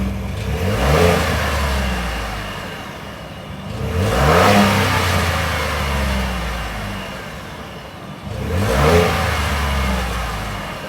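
A Ford F-150 5.0 Coyote V8 engine with the muffler deleted revs three times, each surge climbing and falling back to a deep idle rumble, loud and close with no talking.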